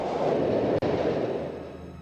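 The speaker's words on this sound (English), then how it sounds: "Just make a run for it and hope you don't get hit by the train." A steady, heavy rumbling roar of a train passing in the video game The World is Not Enough, loud and continuous for about two seconds with a brief dropout near the start.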